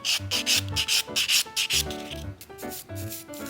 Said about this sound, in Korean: 버퍼로 표면을 한 번 더 정리해 줄게요